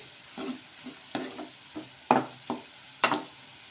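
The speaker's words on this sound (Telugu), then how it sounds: "ఇలా పసుపు కూడా వేసేసుకొని కలిపేసుకోవాలి" Turmeric stirred into an egg dish cooking in a pan, heard as a series of soft, irregular scraping strokes over a faint background sizzle, fairly quiet and without talk.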